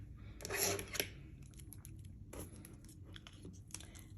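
Small scissors snip through a strip of washi tape laid on a planner page, giving a few close, crisp cuts near the start followed by quieter handling rustles.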